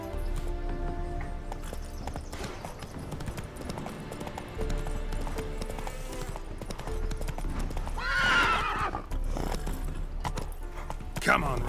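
Geralt's horse Roach galloping in The Witcher 3, rapid rhythmic hoofbeats with a loud whinny partway through, while someone talks over the action.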